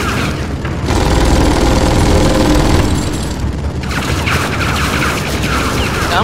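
Sustained rapid gunfire and booming impacts pound against an energy shield in the video game Tales from the Borderlands, loud and continuous with a brief lull before the barrage resumes.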